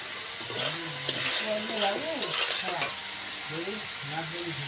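Potatoes for a fish curry frying in hot oil, a steady close sizzle with stirring and light scraping throughout, over faint background sounds.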